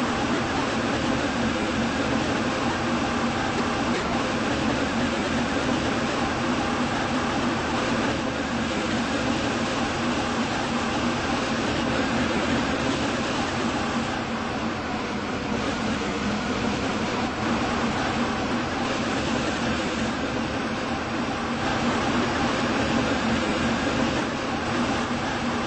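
A Class 357 electric train from Roblox SCR rolls along between Leighton City and Upper Staploe, its steady rumble and broadband rail noise filling the cabin at constant loudness for the whole stretch, with no talk.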